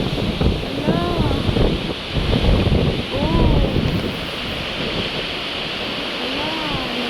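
Strong wind roaring through large trees and sending leaves flying, a loud, gusting rush that is close to the microphone, with a person talking over it in short bursts.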